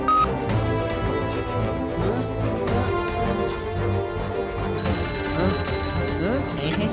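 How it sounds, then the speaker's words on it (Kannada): A telephone rings in a children's animated action show, repeating bright electronic ring tones layered over dense background music. "ಇವಾಗ ನಾನು ಲಡ್ಡು ಸಿಂಗ್ ಸರ್ಗೆ ಫೋನ್ ಮಾಡಿ ಹೆಲ್ಪ್ ಕೇಳ್ತೀನಿ."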